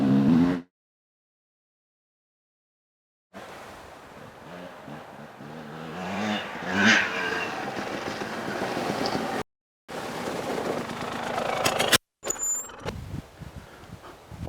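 A Husqvarna racing dirt bike is ridden and revved outdoors, its engine droning and rising in several segments broken by brief silent cuts.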